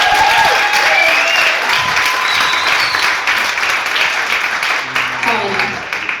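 An audience at a small live Sofar Sounds concert in Montreal claps and cheers loudly and steadily for several seconds, close and sustained, fading slightly toward the end.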